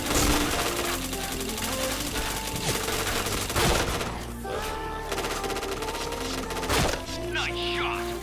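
Rapid gunfire in the video game PointBlank, dense bursts of shots running almost without pause under game sounds, with speech heard at points.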